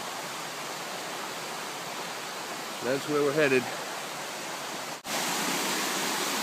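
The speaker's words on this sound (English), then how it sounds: "You can hear the roar of the water on the camera here, and it's coming from right up there." Mountain cascades on the Beaver Brook trail on Mt. Moosilauke roar as a steady, full wash of rushing water, with someone speaking briefly over it midway.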